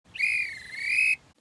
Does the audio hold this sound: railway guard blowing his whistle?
yes